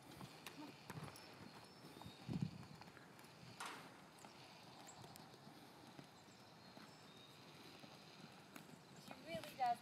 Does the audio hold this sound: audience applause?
no